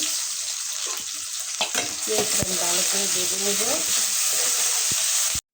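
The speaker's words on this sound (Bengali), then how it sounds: "ভালো করে বেজে নেব পেঁয়াজটা" Chopped onion fries in a pan, a steady close sizzle with scraping stir strokes and brief clatters, continuous throughout without talk.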